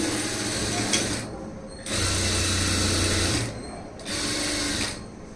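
Domestic sewing machine stitching a blouse lining, running in close, steady buzzing bursts with two short pauses between runs.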